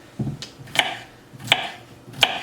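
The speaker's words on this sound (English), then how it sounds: "So we're just going to cut these in smaller pieces," A knife cuts potatoes into smaller pieces on a cutting board, three or four sharp, separate chops spaced about a second apart, close and clear with no talking.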